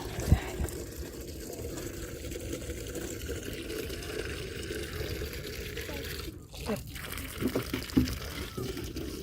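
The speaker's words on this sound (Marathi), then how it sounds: "आता आम्ही झाडांना पाणी देतोय" Water is poured from a container onto plants during a morning walk on Baner hill, a steady splashing trickle with a few louder gurgles near the end.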